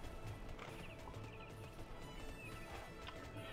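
Horse hooves clip-clop steadily during a ride in the online game TERA, a faint rhythmic patter sitting in a dense bed of game ambience and music with no talking.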